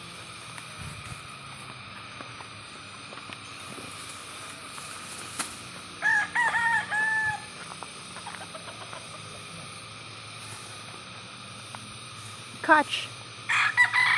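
Chickens call out in a couple of short bursts over a quiet, steady background hum, with a brief spoken word in between.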